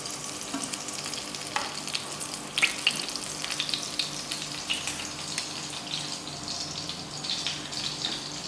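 Flour-coated chicken pieces frying in a pan give off a continuous bubbling sizzle with crackling pops, steady and close, with no talking.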